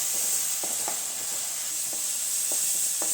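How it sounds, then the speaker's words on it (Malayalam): Ground spice paste sizzles and fries in a pan for a beef roast while it is stirred, a steady hiss broken by several soft scraping strokes of the spoon. "ഇത് നന്നായി ഇളക്കി ഒരു പച്ച മണം മാറുന്നത് വരെ ഒന്ന് ഇളക്കി കൊടുക്കാം."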